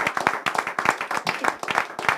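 Church congregation praising Jesus with loud, steady rhythmic clapping and applause, dense and continuous, with faint voices mixed in.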